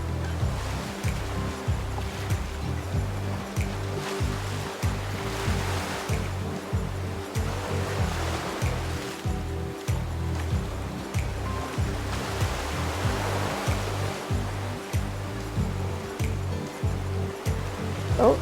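Steady surf wash with waves breaking and rushing in repeatedly, fairly close and continuous, no voices.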